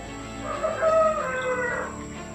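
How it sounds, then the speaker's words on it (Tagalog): A jungle fowl rooster crows once in a drawn-out, wavering call, fairly close and clear, over a constant hum of background noise, with no voices. "Manok sa damuhan, sa gubat, manok ng gubat."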